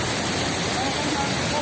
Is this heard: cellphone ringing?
no